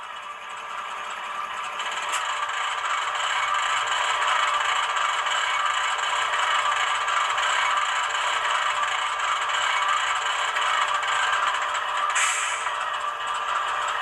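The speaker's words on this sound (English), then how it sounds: "And 21's handbrake." Handbrake effect from the sound decoder of a ScaleTrains HO scale AC4400CW model locomotive: a steady scraping, rattling mechanical noise that starts about two seconds in and runs continuously over the locomotive's background sound.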